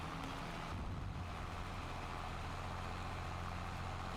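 Steady low engine drone of a tractor in Farming Simulator 25, equipped with variable tyre pressure, holding an even level throughout with a slight shift early on and no voices.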